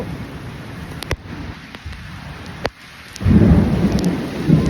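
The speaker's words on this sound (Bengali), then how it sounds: "প্রচুর বৃষ্টি হচ্ছে" Steady heavy rain pours down with sharp cracks of thunder, then a heavier surge of low rumbling toward the end.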